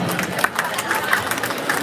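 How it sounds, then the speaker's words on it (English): Crowd applause at a varsity high school hockey game, steady clapping from a rink audience mixed with scattered cheers, sustained throughout the short stretch at moderate loudness. "Let's give a round of applause."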